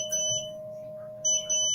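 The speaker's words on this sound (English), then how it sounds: "I don't know why I'm beeping here." Electronic beeping from a medical sensor: steady high-pitched tones with a continuous whine, a few short beeps separated by pauses, fairly close and clear with no talking.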